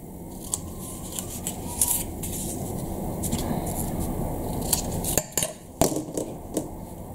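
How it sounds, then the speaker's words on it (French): Scissors snipping bevels into paper or card for a handmade scrapbook album, with a few crisp, close cuts and small handling noises over a soft, steady background hiss. "Ici je coupe mes biseaux."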